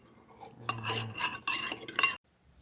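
A whisk clinks and scrapes against a bowl while sour cream sauce ingredients are mixed, several quick bursts of metallic tapping building up, then stopping abruptly into silence.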